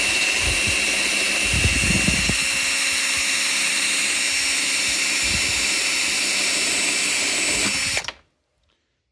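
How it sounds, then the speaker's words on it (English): Whining screw gun spinning a wire wheel against a ground screw held in a vise while working on a 1989 Ford F-350 7.3L IDI diesel, steady high-speed buzz with bits of rough contact, then stopping abruptly. "you can just take screw gun, wire wheel, and a vise"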